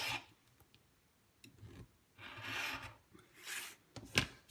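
A rotary or blade cutter slices quilt cotton along a ruler while half-square triangle blocks are squared up, giving soft rasping strokes in a few bursts and ending with a sharp tap, close and quiet.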